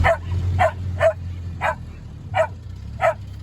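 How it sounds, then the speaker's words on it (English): A dog barks six times at a steady pace on a cold winter day, each bark short and fairly close, over a low constant rumble of background noise. "Fine. Quit barking."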